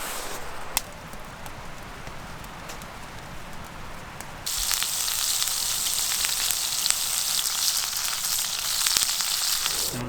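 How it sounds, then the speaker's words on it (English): Heater kicking on inside a winter camping shelter during a snowfall: a faint hiss jumps to a steady, loud rushing whoosh halfway through and holds with no talking. "That's the heater kicking on."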